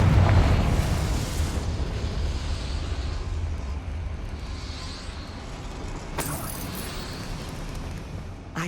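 A Confringo fire spell bursts in the Hogwarts Legacy video game, a deep rumbling explosion that swells loud at once and then rolls on as a long, steady roar, with a sharp crackle near the end.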